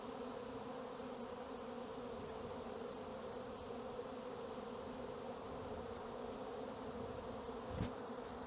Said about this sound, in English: So it's a swarm.